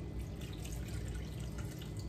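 A little water poured into a slow cooker to loosen stuck barbecue sauce, a soft steady trickle and splash, faint and continuous.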